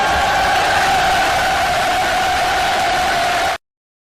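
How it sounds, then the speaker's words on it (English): A canned crowd cheering and applause sound effect plays loud and steady as a dense roar of voices and clapping, then cuts off abruptly. "by giving you a round of applause"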